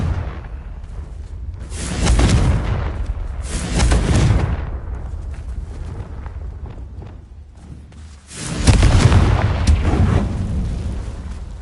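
Confringo fire spell blasts in Hogwarts Legacy, three heavy booming explosions with whooshing bursts, spaced a few seconds apart, loud and close with no talk over them.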